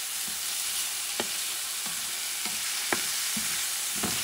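Pork shoulder frying in a pan over moderate heat, an even hiss of sizzling fat with occasional short ticks and scrapes as the meat is turned, close and steady.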